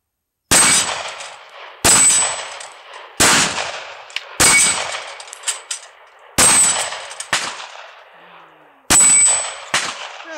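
Six shots from a Glock 43X 9mm pistol ring out one at a time at uneven intervals, each a sharp crack. Most carry a metallic clang from a steel target, with echoes trailing off between shots.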